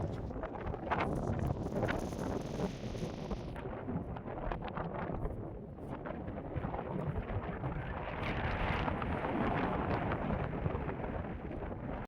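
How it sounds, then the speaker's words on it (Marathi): Strong wind buffets the microphone on a hilltop in the rainy season, a loud, continuous roaring rumble with gusty surges throughout. "हवा खूप आहे"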